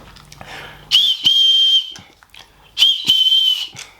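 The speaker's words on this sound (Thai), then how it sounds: "นี้เราดูตัวนกหวีดครับ เขาบอกว่านกหวีดดังมาก" A candy whistle made of jelly is blown in two long, shrill, steady high-pitched blasts, each about a second long, loud and close with breathy attack and little else around.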